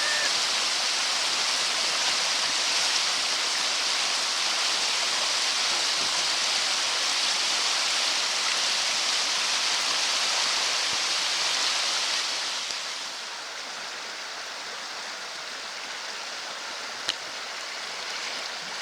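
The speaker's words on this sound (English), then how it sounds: "We got a little set of rapids here." Rapids on the Quetico River during a low-water fall canoe trip roar in a steady, loud, broadband rush among big rocks, easing somewhat softer after about twelve seconds.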